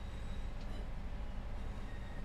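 Scotrail Class 158 diesel multiple unit in Train Sim World 4, bound for Edinburgh Waverley, gives a steady low rumble of rolling train and engine noise throughout, with no voices.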